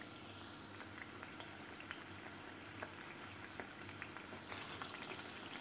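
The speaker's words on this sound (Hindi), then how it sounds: "जब तक ये अच्छे से गोल्डन ब्राउन नहीं हो जाते हैं तब तक इन्हें फ्राई करना है" Eggplant slices fry in hot oil in a pan, a soft continuous sizzle with scattered crackling pops, quiet and steady with no talking.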